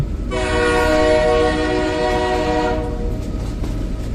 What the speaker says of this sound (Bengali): আবার একটা ব্রিজ বেরোচ্ছে ট্রেন